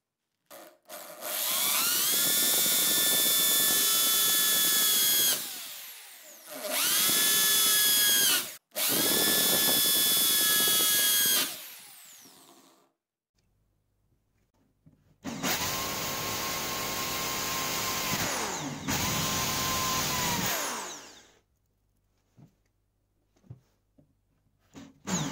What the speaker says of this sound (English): Time to do some drilling for my bus bars.